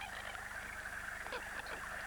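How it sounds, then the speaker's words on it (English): Coots, also called mud hens, call from a pond in a steady stream of crazy clucking and squawking notes over a constant hum of background wildlife. "The crazy sounds of coots delight pond watchers around the world."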